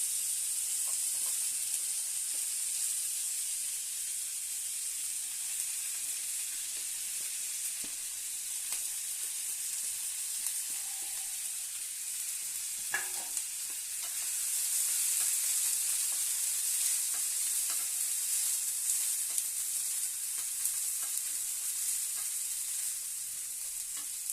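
Vegetables fry lightly in a pan over a low gas flame for a rice-water soup, a soft, continuous sizzle and hiss with faint occasional stirring clicks and no talking.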